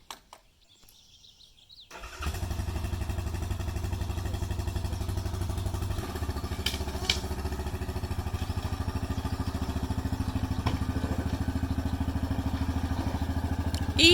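A ride-on quad monster truck engine starts after a quiet moment, then idles with a steady, loud buzzing drone that rises slightly partway through, running close by with faint birdsong in the background.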